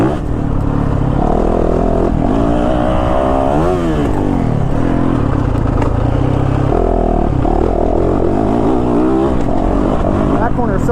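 A 2022 Yamaha YZ450FX dirt bike engine revs hard on a dusty track, rising and falling through throttle sweeps in third gear, loud and close throughout with someone talking over it.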